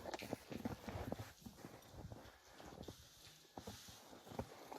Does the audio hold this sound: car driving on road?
no